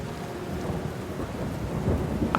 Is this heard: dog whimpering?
no